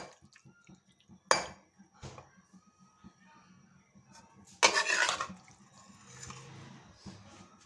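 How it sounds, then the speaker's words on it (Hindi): Cooked aloo palak curry, a potato and spinach dish, is ladled from a pot into a serving dish, with a few sharp clinks of a metal spoon against the vessel and soft wet plops between them, with quiet talk in the background. "अब डालते हैं अपने बर्तन में, डालते हैं बर्तन में।"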